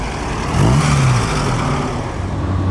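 A Fiat-derived vintage race car at the Mille Miglia road race roars close by, its engine note rising and then holding steady, loud, with no voices over it.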